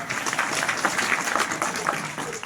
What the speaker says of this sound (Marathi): स्वतःसाठी टाळ्या वाजवा ना